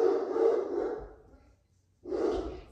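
An indoor dog barks at another dog outside, letting out a loud, close, rough bark that fades, then a second bark after a short pause, with no voices.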